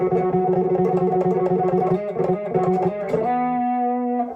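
A distorted electric bass plays a quick run of notes, then settles on a sustained held note, loud and close.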